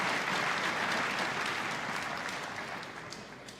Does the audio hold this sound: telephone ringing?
no